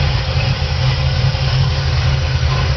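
A 1972 Chevelle with new short spark plugs and wires idles after a cold start, giving a loud, steady, deep rumble from close by with no voices.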